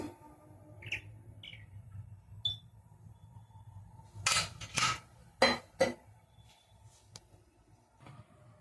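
A metal kadai is set on the stove and oil is poured in to start a tempering for a tamarind-leaf dal: a few close, sharp metallic clinks and clatters over a quiet kitchen, with faint birdsong outside.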